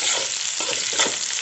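Diced paneer and large-cut capsicum stir-fry in a hot pan, giving a steady, close sizzle with a soft stirring scrape running throughout, no voices.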